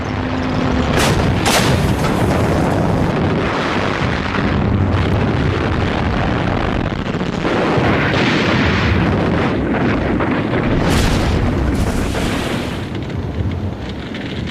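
A WWII tank battle during Operation Crusader in the North African desert, with artillery fire and explosions: loud, continuous booms and blasts overlapping in a dense roar, with wind buffeting the recording throughout.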